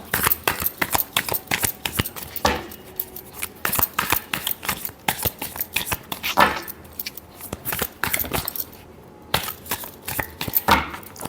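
Tarot cards are shuffled in quick bursts of crisp riffling and slapping, close and fairly loud, with brief pauses between rounds and no talking.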